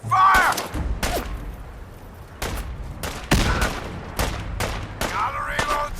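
Gunfire in the video game Fallout 4, a string of loud, separate shots and short bursts spaced through the clip, close and punchy, with brief voice-like game sounds in between.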